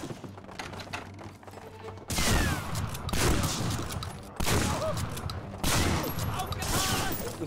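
Shotgun fire in Medal of Honor: Frontline during a town firefight, three loud blasts spaced a couple of seconds apart, each followed by rattling debris and battle noise.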